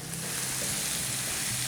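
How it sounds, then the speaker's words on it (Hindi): Bottle gourd sizzles steadily in hot oil with cardamom as it is stirred in the pan, a close, continuous hiss with faint scraping and no talking. "इसे हमें अच्छी तरह फ्राई करना है"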